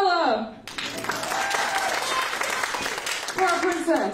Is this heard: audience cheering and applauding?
yes